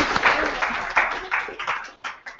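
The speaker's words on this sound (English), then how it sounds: "so let's give them a round of applause." An audience applauds election candidates at a student union Question Time event, a close, steady round of clapping that builds quickly and then thins out.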